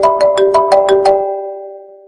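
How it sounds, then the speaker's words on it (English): A phone ringtone plays seven quick, bright, bell-like tones in an even rhythm, then a ringing sustained tone that slowly fades out, loud and clear with no talking. "How non-Arabs hear their ringtones?"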